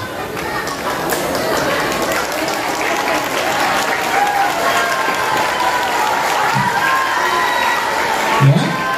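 A hall full of school students at an anti-drug talk applauds loudly and continuously, with scattered shouts and foot movement mixed into the dense clapping.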